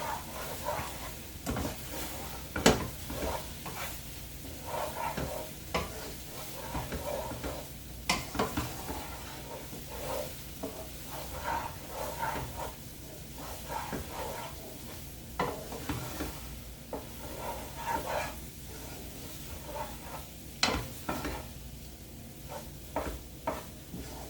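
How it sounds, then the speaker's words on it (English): A mixture with sausage being stirred in a frying pan, with a steady sizzle underneath and repeated scraping, clicking stir strokes at an irregular pace throughout, fairly close. "Keep stirring the mixture."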